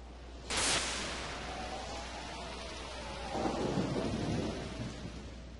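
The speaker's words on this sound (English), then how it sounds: "Thunderstorm." A thunderstorm with rain in the Pokemon Mystery Dungeon: Explorers of Darkness video game, with a sharp thunder crack followed by a rolling rumble over steady hissing rainfall and no speech.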